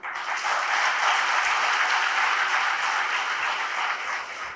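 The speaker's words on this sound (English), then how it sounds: "I request all of you to welcome with a big round of applause our Executive Director, Mr. Zillur Rahman." Sustained audience applause fills a hall at the opening of a conference session, dense and steady clapping from a large crowd throughout, with no talking over it.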